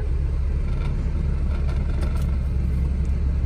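A Suzuki Cultus car engine holds a steady, continuous low rumble close by, with no clear surges of revving, alone without talk.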